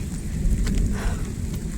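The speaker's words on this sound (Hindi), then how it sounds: "और इतनी भयंकर बारिश हो रही" Heavy monsoon rain pours steadily while people walk home from a hillside field, a dense, loud, rumbling hiss with gusty low-end roar and no pauses.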